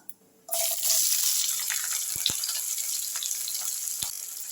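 Chopped onion is tipped into hot oil with cinnamon and cloves; after a brief quiet moment a loud, steady sizzle bursts in and carries on, with a few sharp clicks.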